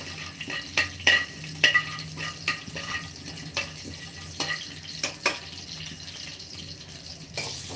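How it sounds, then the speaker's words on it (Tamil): Onions frying in oil right after mustard seeds are tempered, a low sizzle broken by regular scraping and clacking of a ladle against the pot, close by and with no talking. "வெங்காயம் வரும் அதான் கடுகு தாளித்த உடனே வெங்காயம்"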